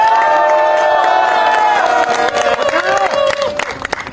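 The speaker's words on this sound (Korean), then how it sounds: "큰 박수 부탁드립니다" A student gathering at a Korean arts university breaks into loud crowd cheering and applause, with whoops and shouts over dense clapping close by that tapers slightly toward the end.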